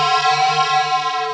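A higher sustained guitar synth note played through a Line 6 POD HD Pro rings out steadily with a bright, buzzy, harmonic-rich tone and a slight wavering, alone and without talk.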